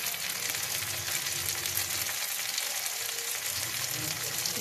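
Tomatoes sizzle and fry loudly in a pan of fried onions while making egg pasta, a steady hiss with light stirring throughout.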